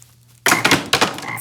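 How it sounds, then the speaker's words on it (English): A frog croaking sound effect bursts in after a near-silent start: two loud, rasping croaks in quick succession, close and harsh. "God is gonna send frogs."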